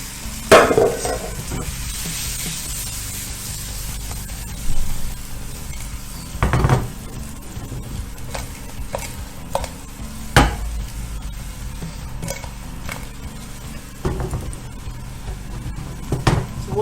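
A steady sizzle of Irish potatoes frying in a pot, with occasional stirring scrapes and light clinks of a utensil against the pan; no talking.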